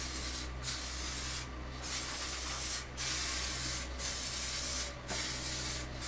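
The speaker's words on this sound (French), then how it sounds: "je mets juste un petit coup de vernis en bombe" Aerosol can of varnish sprayed onto a glued half-lap wooden computer monitor stand, steady hissing bursts of about a second each separated by short gaps, close and fairly quiet with no speech.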